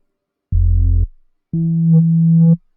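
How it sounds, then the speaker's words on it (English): Two sustained low synth bass notes from a Serum sine wave with light distortion, slightly gritty, the first short and the second longer, played alone with nothing else. "just a sine wave with a little distortion"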